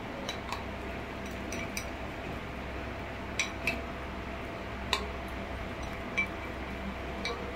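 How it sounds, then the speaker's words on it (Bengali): Cake batter mixed by hand in a bowl for a homemade anniversary cake: soft, steady stirring with repeated light clinks of a utensil tapping the bowl's rim, fairly quiet and close, without speech. "ভালো করে মিশিয়ে নেবো এরকম করে"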